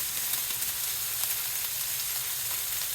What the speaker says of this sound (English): we'll let this sear a bit on one side